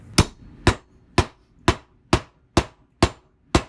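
Eight evenly spaced, sharp metallic hammer blows ring out on the catalytic converter of a 2018 Chevy Camaro as it is hollowed out, each a loud close clang about half a second apart.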